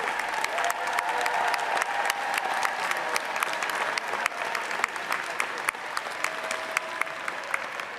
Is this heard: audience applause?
yes